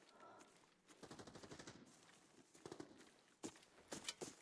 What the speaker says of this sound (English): AK-12 burst fire gamer.